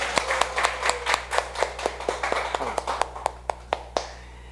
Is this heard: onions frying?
no